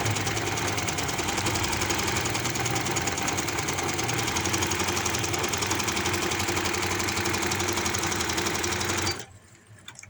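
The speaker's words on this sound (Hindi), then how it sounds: "आगे से पकड़ते जाएं और सिलाई लगाते जाएं" A sewing machine runs a continuous rapid stitching whir along fabric for an umbrella palazzo, loud and steady for about nine seconds before it stops abruptly, with no talking.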